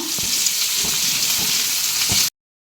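Onions fry in a pan as the base for chicken gravy, making a dense, even hiss of sizzling oil heard close up with faint stirring taps, before it cuts off abruptly.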